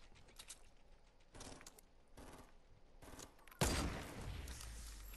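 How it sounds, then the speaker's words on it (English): Gunfire in the Fortnite video game, several separate bursts of shots and mechanical clicks, then one louder close blast that trails off into rumble. "He's shooting at me."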